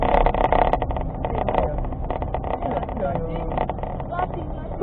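A car engine labors up a steep hill in first gear on a mountain road near Pacet, a steady, loud, strained drone that fills the clip, with people talking over it.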